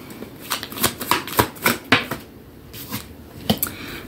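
Tarot cards are shuffled and drawn by hand in a quiet room for a spiritual reading, making a brisk patter of crisp riffling snaps and flicks, close and fairly soft, with no talking.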